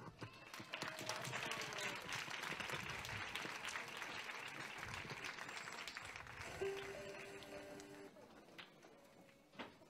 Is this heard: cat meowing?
no